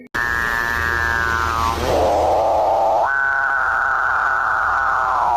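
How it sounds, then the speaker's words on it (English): Capuchin bird call, a loud, drawn-out droning moan in two long sustained phrases, the pitch sliding down and then stepping back up, heard close and alone. "The capuchin bird."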